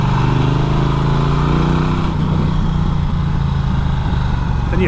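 A Norton Commando 961 motorcycle engine runs with a loud, steady, throbbing and rattly drone, close up and continuous throughout.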